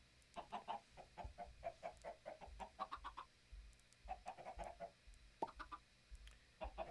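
Minecraft chickens clucking in a game, a scattered run of short, quiet clucks in irregular bursts over a faint low background hum.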